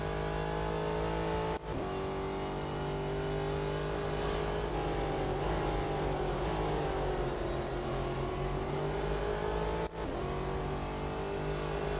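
A race car engine in the Real Racing 3 video game drones steadily at full throttle, its pitch sagging and climbing again, with two brief sharp clicks that sound like gear changes.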